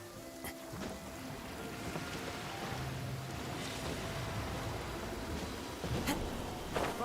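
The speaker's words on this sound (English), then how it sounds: "Taking a stroll in the middle of a downpour certainly rouses the spirit." A steady, dense downpour of rain hisses evenly throughout a Genshin Impact scene, with no voices and only faint swells in the wash of noise.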